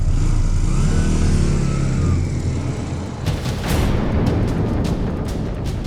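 A motorbike engine roars and revs hard up close, then pulls away with rumbling exhaust and sharp bursts fading slightly, no talk over it.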